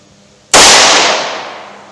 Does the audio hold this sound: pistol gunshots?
yes